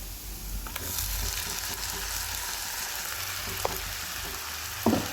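Tomato, garlic and ginger paste fries with onions in a pan, giving a soft, continuous sizzle with faint stirring clicks and a brief clatter near the end.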